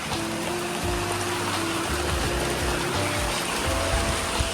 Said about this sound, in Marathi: बघा पडतोय पाऊस